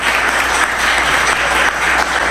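Steady, loud audience applause greets the ambassador of Greece at a public talk in Mexico, a continuous wash of clapping from a large crowd with no speech over it.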